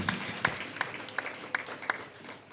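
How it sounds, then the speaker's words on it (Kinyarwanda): A church congregation claps in steady unison, sharp beats landing at an even rhythm over a soft room murmur, moderately close and fading slightly toward the end. "amashyi menshi cyane"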